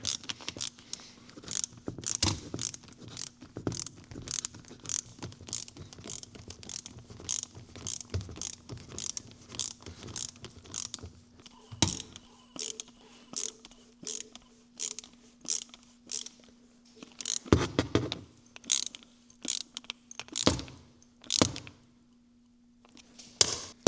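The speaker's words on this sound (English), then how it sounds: "you're actually re-tapping these holes, so it's going to be a little bit difficult to put them in. So that's why it's good to use the screwdriver" A hand screwdriver driving screws into freshly re-tapped holes in the soft aluminum-like metal of a diaphragm pump drive assembly, giving a long run of crisp ratcheting clicks with brief pauses between turns.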